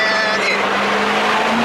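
A Corvette C7 sports car accelerating hard after a downshift on a coastal drive, its engine a loud, sustained, rising drone heard up close with windows down.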